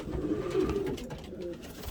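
Pigeons in a breeding loft give a low, continuous cooing murmur, close by and steady, with no voices over it.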